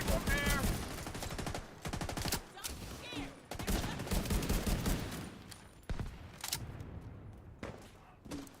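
Video game gunfire in a crowded PvE battle, rapid repeated shots and bursts layered with impacts and effects, loud and continuous with brief lulls, while a voice talks now and then.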